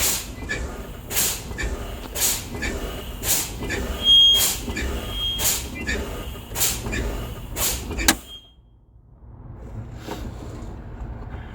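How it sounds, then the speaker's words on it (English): A truck's air brake pedal is pumped repeatedly to bleed down air pressure, giving a steady rhythm of sharp hissing air bursts about every half second. The bursts end abruptly in a final release, followed by near quiet. "I will continue to fan my brake until my parking and emergency brake knobs pop out"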